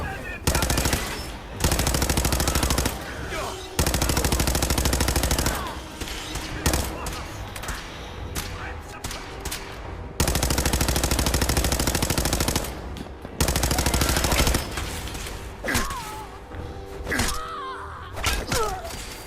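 Fallout 4 firefight against gunners with laser weapons: bursts of rapid automatic fire alternate with single shots and brief pauses, loud and close, with a voice talking in between.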